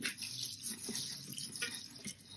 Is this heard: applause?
no